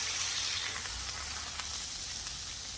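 A smashburger patty pressed flat on a hot griddle with an oiled spatula gives off a steady, bright sizzle that hisses continuously and fairly close, with no talk over it.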